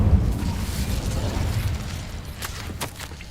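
Incendio fire spell explosion in Hogwarts Legacy: a loud burst of roaring fire that rumbles and slowly fades, with a few crackling pops toward the end.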